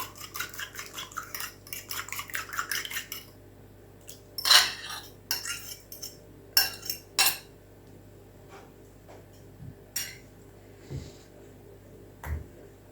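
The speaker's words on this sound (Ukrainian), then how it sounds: "Але ось так легенько виделкою перемішую." A fork rapidly scrapes and clinks against a bowl in a quick whisking rhythm, then a few louder taps and scattered clinks follow more slowly.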